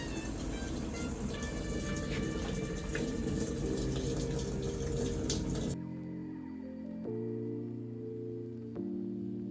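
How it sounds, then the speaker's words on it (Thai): Water pours into an LG T2514VS2M Smart Inverter 14 kg top-load washing machine as a loud, steady rush, then stops abruptly, leaving a low machine hum and a few clicks. "น้ำก็จะไหลเข้าตัวเครื่องจนได้ระดับที่ต้องการนะครับ"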